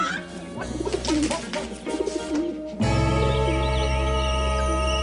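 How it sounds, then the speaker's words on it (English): Pigeons or doves coo in a steady, fairly loud run, layered over a sustained background tone that thickens midway through. "Birdies!"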